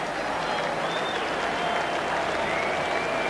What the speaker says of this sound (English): A standing ovation for Jeff Houth.